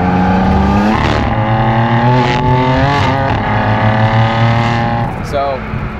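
BMW F80 M3 with S55 engine and exhaust valves closed, accelerating through several rising revs with a steady, muted drone up close, easing off near the end.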